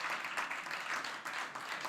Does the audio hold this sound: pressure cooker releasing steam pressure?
no